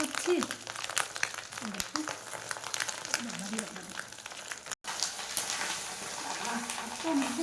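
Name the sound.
pakoras frying in a pan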